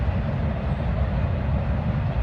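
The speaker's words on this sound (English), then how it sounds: "What you're hearing over there is a train." A dense, steady low rumble and roar of a train passing near the Silver Comet Trail, loud and continuous with no break or voices.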